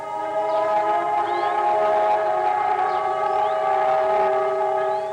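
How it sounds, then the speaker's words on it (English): Memorial sirens wail across Israel in a sustained, layered, steady tone with slow rising and falling sweeps, loud and unbroken, with no talk over them. "As sirens wailed across the land, the people of Israel fell silent"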